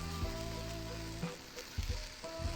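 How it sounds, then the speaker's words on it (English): Quiet, steady sizzling of onions frying in oil, with a few soft clinks and stirring sounds near the end. "it's actually starting to sizzle right now."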